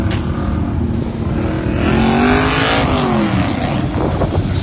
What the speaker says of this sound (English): Bob Brittles in this Corvette going by